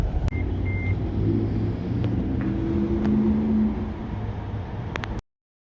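A second-generation Nissan LEAF electric car drives along a road, giving a steady low road and motor hum with faint wind noise. The sound runs evenly for about five seconds, then cuts off abruptly.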